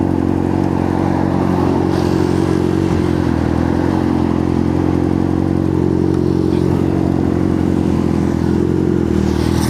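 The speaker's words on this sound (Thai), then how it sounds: "นี้ก็ดีนะว่ารถยังสตาร์ติด" A vehicle engine runs loud and close with a steady, rough rumble and slight clatter, holding an even idle the whole time without talk.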